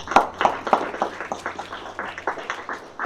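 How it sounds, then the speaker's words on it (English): Audience applause at a DevOps meetup, a crowd clapping with a few sharp claps standing out early, then settling into a steady patter that fades slightly toward the end. "Another round of applause."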